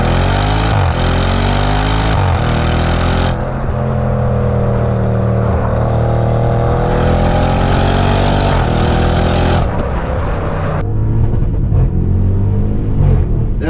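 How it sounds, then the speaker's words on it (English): A 2013 Audi with a 4-litre twin-turbo V8 and dual-clutch gearbox revs loudly and close, its exhaust rising and falling in pitch through gear changes, with abrupt breaks where pops and crackles cut in. "Obviously with those pops, the farts, Audi's DSG farts or dual clutch farts."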